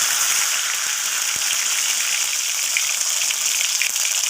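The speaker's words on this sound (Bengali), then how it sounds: "সেই মশলার মধ্যে পনিরগুলোকে একটু ডুবিয়ে নিয়ে তেলের মধ্যে ভেজে নেব" Paneer pieces dipped in spice paste sizzle steadily in hot mustard oil, a dense, continuous crackling hiss with no pauses and no voices.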